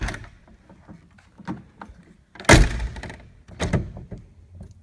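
The doors of a 1967 Ford Econoline van thunk shut several times, a few heavy solid closes with softer clicks and latch sounds in between, close by and fairly loud.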